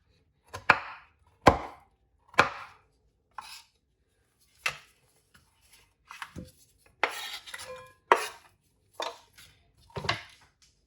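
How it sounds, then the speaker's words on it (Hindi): A knife chops a lemon into small pieces on a board, about a dozen sharp, separate knocks at an uneven pace, close and clear with quiet gaps between strikes and no voices. "ऐसे छोटे छोटे पीस कर देंगे।"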